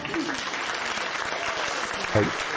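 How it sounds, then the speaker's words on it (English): Applause during a live folk music stream, a steady patter of clapping with a voice briefly breaking through near the end. "She's filling in with applause."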